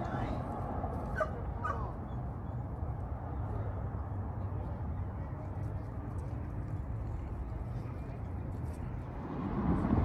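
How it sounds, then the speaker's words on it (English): Dogs at a dog park yip and bark a few times early on, fairly distant, over a steady outdoor rumble while people talk nearby. "Duffy, go see the other dogs."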